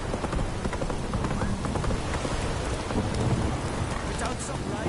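Hoofbeats of Roach, a horse in a PS4 video game, trotting steadily through a rainstorm, with the clip-clop rhythm running under constant rain and rumbling thunder.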